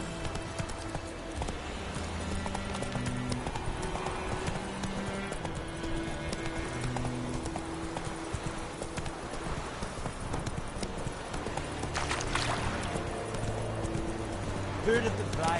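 Horse hooves clip-clop at a steady trot throughout in The Witcher, close and continuous over a background music bed, with a brief voice near the end.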